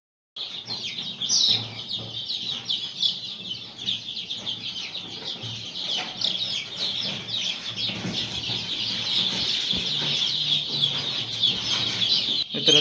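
Native village chickens, including a frizzle-feathered bird, cluck and call repeatedly at close range in a busy, continuous chorus.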